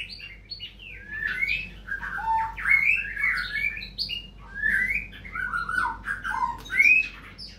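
A white-rumped shama with a broken upper beak calls repeatedly with loud, varied whistles, chirps and squawky notes in quick phrases, close and clear over quiet background noise.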